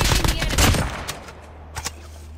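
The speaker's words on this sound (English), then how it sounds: "Oh yeah, gunshots." A rapid burst of automatic gunfire in a squad-based shooter video game, loud and dense for about a second, then trailing off into a couple of fainter isolated shots.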